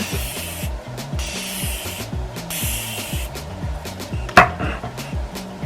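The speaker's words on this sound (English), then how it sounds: "I'll go ahead and spray my face anyways, just so we see." Several short, breathy spritzes of setting spray onto a face from a spray bottle, one sharper and louder near the end, over soft background music.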